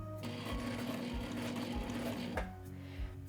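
A sewing machine runs steadily, stitching a short straight seam on fabric, a continuous close mechanical whir that slows and stops near the end, with no talking.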